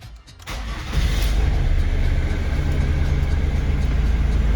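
A Ford Mondeo 2.0/2.2 TDCi diesel engine cranks briefly and catches, then settles into a steady, loud, close idle rumble with no voices.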